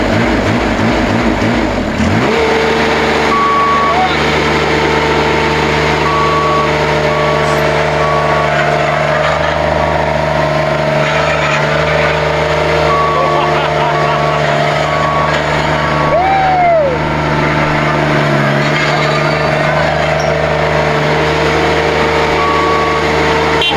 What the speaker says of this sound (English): we have the trucks putting the boxes up now, starting to fill up the paver